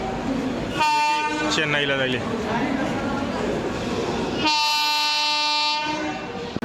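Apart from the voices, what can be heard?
passenger train arriving at station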